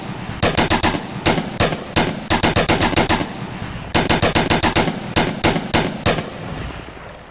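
Automatic gunfire from a weapon in the VR shooter game Onward: repeated loud bursts of rapid shots in quick rhythm, separated by short pauses, with no talking.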